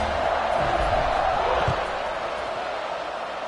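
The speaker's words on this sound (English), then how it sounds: "this crowd is buzzing after that last score" Steady stadium crowd roar in a Madden football video game just after a score, a dense, continuous buzz of distant voices that eases slightly toward the end.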